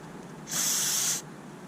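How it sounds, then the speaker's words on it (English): A short, steady hiss of WD-40 sprayed from an aerosol can onto a towel, close and clear, lasting under a second in a quiet room. "I'm going to use some WD-40 to remove that."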